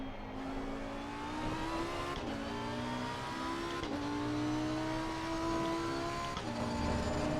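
Lamborghini EVO race car in Assetto Corsa Competizione, racing at Hungary: a continuous loud engine whine rising through the gears, with short dips at each shift and steady revving throughout, no talking.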